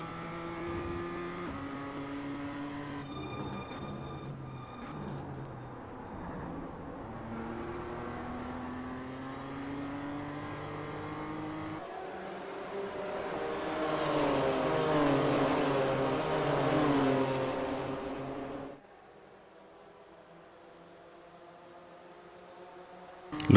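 A BMW race car engine in the iRacing video game, racing toward a hairpin, drones and revs loudly with rising and falling pitch through gear changes, then drops to a quieter idle near the end.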